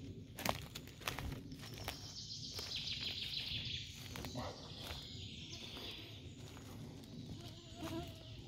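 Birds chirp and twitter in a forest during mushroom picking, faint and somewhat distant, with footsteps and rustling close by and a quiet voice at times.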